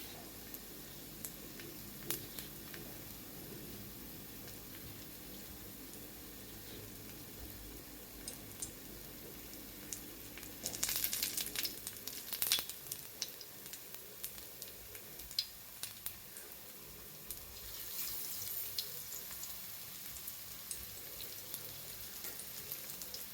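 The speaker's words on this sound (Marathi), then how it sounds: "आता आपण ही टिक्की त्या तेलामध्ये सोडूया." Sweet corn veg cutlets go into hot oil to shallow fry on medium heat. A faint, steady sizzle runs throughout, and louder crackling surges come as the pieces hit the oil, with no talking.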